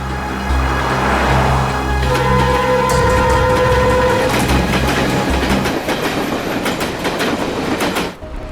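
A train running on rails, loud and close, with a rumbling roll and rhythmic clickety-clack, a brief high wheel squeal, then the noise easing before a sudden drop at the end.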